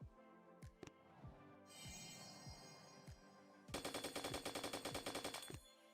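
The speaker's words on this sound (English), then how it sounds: "So we got our cannons, our machine guns." Machine gun fire in the mobile strategy game Boom Beach: scattered single shots at first, then a dense rapid burst of automatic gunfire in the final seconds, fairly quiet overall with no voices.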